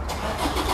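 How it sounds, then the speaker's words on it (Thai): A 2019 Toyota Fortuner 2.8 TRD Sportivo 4WD starts by push button with the brake pressed; a brief, steady, fairly quiet engine crank settles toward idle, close by and without talk. "เหยียบเบรกกดพุทสตาร์ท"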